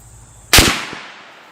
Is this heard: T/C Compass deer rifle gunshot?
yes